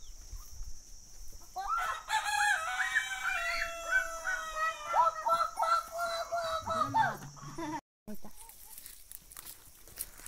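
Chickens and a rooster crow and cluck in a busy farmyard chorus, rooster calls rising and falling over a few seconds with a brief cutout near the end; faint voices sit underneath.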